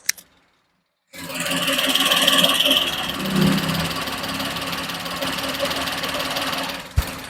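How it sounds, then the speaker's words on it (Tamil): A Maruti Alto 800 family car's engine running steadily, giving a continuous mechanical idle hum with a light ticking texture that starts abruptly after a brief silence and holds at a moderate, close level throughout. "நான் இப்போ இன்ஜின் நாய்ஸுமே உங்களுக்கு காமிச்சிடுறேன்."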